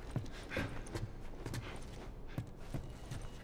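Steady clip-clop of horse hooves walking at an even pace in the video game The Last of Us Remastered, moderately close, with a faint background ambience.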